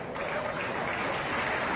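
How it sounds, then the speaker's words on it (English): Sustained, dense applause from a large audience at a charity Valentine gala, steady and loud throughout with no pauses. "give yourselves a round of applause"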